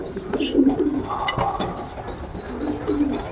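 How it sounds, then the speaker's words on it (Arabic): Pigeons in a loft housing black squabs coo in soft, throaty bursts, several overlapping calls rising and falling close by amid low rustling background noise. "ده اول فرخ في الحمام البلاك او في الزغاليل البلاك"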